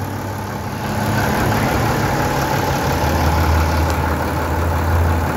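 A Sonalika 125 HP tractor with a turbo intercooler engine and swamp tires runs loud and steady, a constant low diesel rumble with a faint high whine on top, with no talk.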